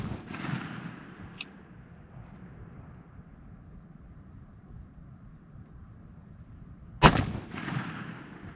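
A .41 Magnum Ruger Blackhawk revolver fires twice outdoors: one loud, sharp shot at the start that fades into a long rumbling echo, then a second loud crack about six seconds later, with faint wind in between.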